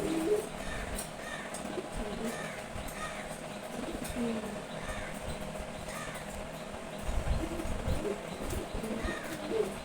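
Racing pigeons, large birds, coo softly in a loft with repeated low calls, while crows caw in the background and a voice speaks faintly.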